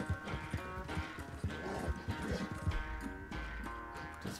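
Rhythmic hoofbeats of a galloping horse in Red Dead Redemption 2, steady and fairly close, with a low rumble and faint background tones underneath.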